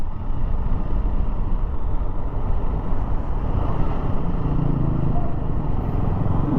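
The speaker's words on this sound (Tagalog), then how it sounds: "Daming motor ng mga repo." A dense, unbroken roar of motorcycle traffic on a road near Nasugbu, loud and close throughout, with engine drone and road noise blending into one steady wash.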